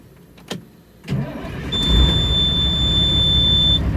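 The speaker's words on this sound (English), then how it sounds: "I gotta start this truck up" A truck engine cranks and catches after a couple of clicks, then settles into a steady, loud idle with a thin high whine over it.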